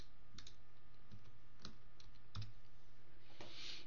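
Typing on a computer keyboard: scattered, close key clicks at an irregular pace over a steady low electrical hum, with no voices.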